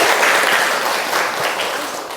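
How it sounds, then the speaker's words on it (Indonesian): A group of students claps for a classmate named Putri during a lesson, a steady round of applause that slowly fades, with no voices over it. "Tepuk tangan untuk Putri."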